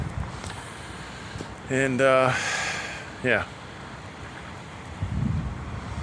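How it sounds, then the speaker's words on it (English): Wind buffets a microphone outdoors beside a lumber-hauling truck, a steady roaring rush punctuated by a few brief voiced sounds from someone speaking. "I apologize for the wind."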